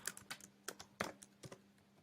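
Someone types Python code on a computer keyboard: quiet, close key clicks in irregular bursts, with brief pauses between groups of keystrokes and no talking.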